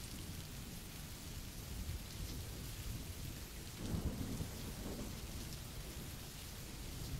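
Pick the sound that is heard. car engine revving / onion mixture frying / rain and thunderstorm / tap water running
rain and thunderstorm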